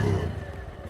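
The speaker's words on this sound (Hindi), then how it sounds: "ये जो एग्जॉस्ट नोट है ये एक्चुअल में बहुत ही ग्रंटी लगता है" A TVS Radeon commuter motorcycle's exhaust gives a short, low, gruff engine burble, close and moderately loud, fading slightly within under a second.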